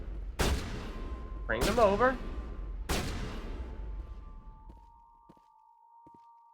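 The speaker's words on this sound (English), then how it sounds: "I think that was the sound of a sniper" Three sharp, loud sniper rifle shots in the video game Mass Effect Legendary Edition, a second or so apart, each with a trailing echo, and a voice speaking briefly between them.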